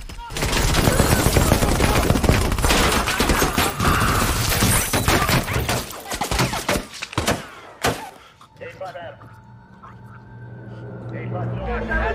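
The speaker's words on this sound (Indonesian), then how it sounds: "Ray menembak mereka dalam baku tembak, menewaskan 7 orang dan melukai lainnya" Dense rapid gunfire in a film shootout scene, bursts of automatic shots and crashes for several seconds, then scattered single shots and a tonal hum as the firing dies away, with voices mixed in.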